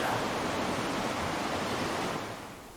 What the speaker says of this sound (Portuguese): A correnteza o levou e acabou caindo na cachoeira.